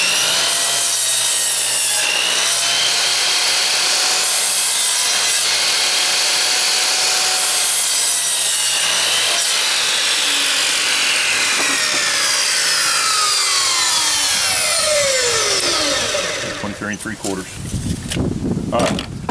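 A power saw cuts a wooden board with a loud, sustained whine that holds steady and then bogs down as the cut finishes near the end, followed by a short rattle.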